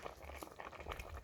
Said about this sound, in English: Gram beans are here also cooking well.